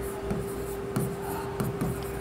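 Pen writing on paper while an accounting problem is worked out, soft faint scratching strokes in a few brief bursts over a steady low hum.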